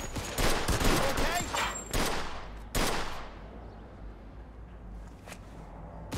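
Gunfire in Mafia 2: Definitive Edition, during a hostage rescue, rings out in several loud rapid bursts and single shots over the first few seconds, then fades to a quieter background with a faint late shot.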